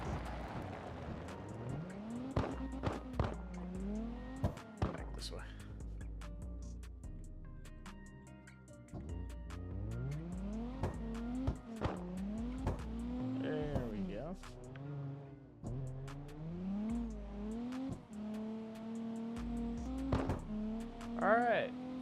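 Car X Drift video game car drifting, with engine tones rising and falling through repeated revs and shifts and intermittent tire squeal, continuous and moderately loud under someone talking.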